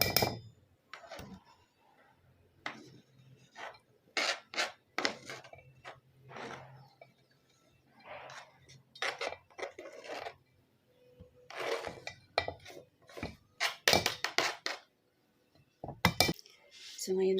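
A utensil clinks and scrapes against a bowl while pumpkin kikiam mixture is stirred, sharp irregular taps and clatters coming in bursts, close by, with a voice talking in between.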